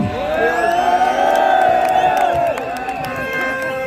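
A crowd at a political gathering in Kabete, Kenya, whoops and cheers loudly, many voices swelling together and holding before easing slightly near the end.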